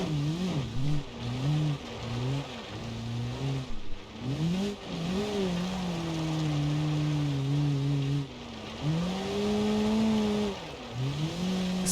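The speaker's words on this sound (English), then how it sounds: "This car does like to drift on these dirt areas." Game car in BeamNG.Drive driving and drifting around a dirt track, its engine revving up and down in steady rising and falling sweeps, loud and close throughout with brief dips as the throttle lifts.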